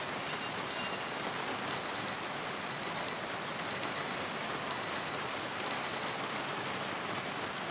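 In a video game, an alarm beeps in six short, evenly spaced bursts about once a second over a constant, loud rain-like hiss.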